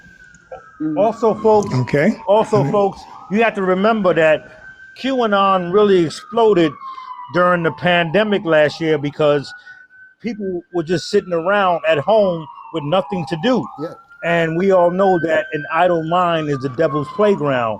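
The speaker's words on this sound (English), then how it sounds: "if you hear sirens in the background, it's very typical of the Bronx." Emergency vehicle siren wailing on a Bronx street outside, faint and continuous beneath two people conversing steadily indoors.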